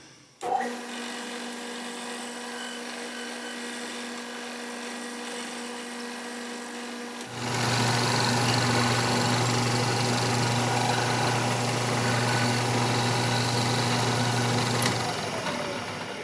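A machine takes a light cut in aluminum in a metal shop: a motor whine starts abruptly, holds steady, then steps up into a louder, fuller cutting drone that runs continuously before easing off near the end.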